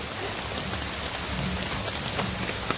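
The first rain of the season falls in coastal Konkan countryside as a steady close hiss of drops striking surfaces, with no voices.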